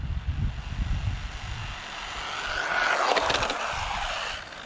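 RC drift truck electric motor at full throttle on a speed run, a rising high whine that swells and passes close by, then fades, following a few seconds of low rumble and no talking.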